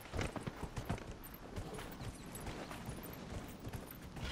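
Hooves of a galloping horse in Dragon Age Inquisition, rapid clip-clop beats loudest at the start, then settling into a softer, continuous rhythmic thudding, with no speech.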